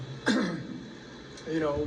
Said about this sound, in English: it's the classic old guy clear your throat bullshit